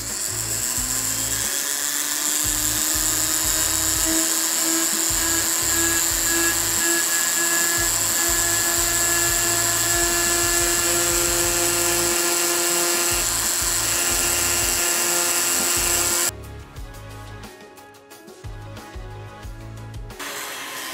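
A Dremel rotary tool engraving metal gives off a steady high-pitched whine with a grinding buzz as the bit cuts, running continuously and close by, then dropping in tone near the end as the tool eases off.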